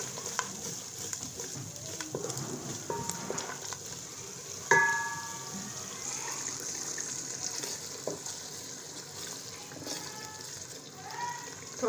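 Masala spices for beef paya sizzle and fry in a pot as splashes of water go in, with soft stirring scrapes and a sharp hiss now and then over a quiet, steady crackle.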